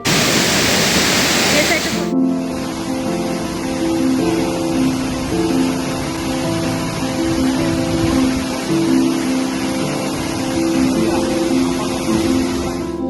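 The Kanchenjunga waterfall near Pelling, Sikkim, rushes in a loud, steady, dense roar of falling water that fills the whole clip, with a voice speaking faintly beneath it and a brief louder burst at the start.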